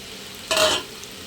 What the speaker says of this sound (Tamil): வெண்டைக்காயும் போட்டு அதோடு வதக்கணும்